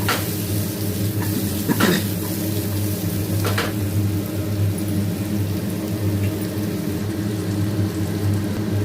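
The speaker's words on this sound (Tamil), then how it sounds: "பச்சைத்தன்மை போகிற வரைக்கும் நல்லா வதக்கி எடுத்துக்கிறோம்" Chopped bottle gourd sautés in oil in a pan, a steady soft sizzle running throughout with a couple of brief scraping stirs near the start.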